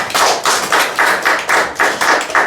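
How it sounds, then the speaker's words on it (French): A church congregation claps in a fast, steady rhythm, the loud bursts of clapping repeating about every quarter second, close and energetic, with no talk over it. "Acclamons pour le Seigneur"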